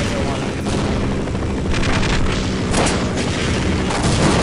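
Rocket blasts in the Half-Life mod Outrun, a dense, loud barrage of booming explosions and gunfire-like bursts filling the whole stretch, with a couple of sharper hits standing out near the end.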